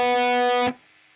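Distorted electric guitar from a solo: one sustained, buzzing note rings loud and steady for most of a second, then cuts off sharply into near silence.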